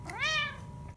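A single close, clear meow from a cat, rising and then falling in pitch, lasting about a third of a second before quiet.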